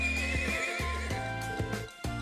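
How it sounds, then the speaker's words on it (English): A horse in the video game Trails of Cold Steel neighs loudly and close, a tonal whinny layered with music-like harmonics and a few hoof-like thumps. "I'm on the horse now. Time to ride."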